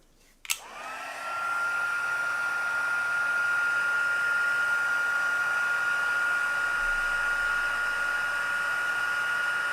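A heat tool blows loud and steady, melting white embossing powder on a papercraft card. It starts abruptly after a brief click and then runs as an even, continuous whoosh with a high whine for the rest of the stretch.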